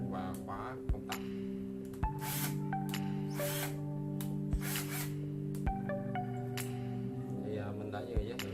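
A Hitachi KC10DML cordless drill driver runs with a steady, close motor whine, and sharp clicks are heard every second or so.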